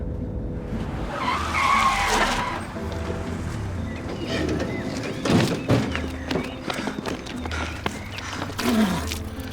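A car skids and its tires squeal under hard braking, coming to a stop. Loud, close skidding bursts recur in uneven waves, with engine rumble and some voices beneath.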